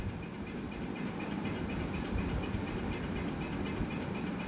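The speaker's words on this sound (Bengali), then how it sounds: "এরপর গরম তেলের মধ্যে দিয়ে দেব 5 ফোড়ন।" Panch phoron, a five-spice seed mix, hits hot oil and fries with a steady, close hiss and fine popping crackles that run unbroken throughout.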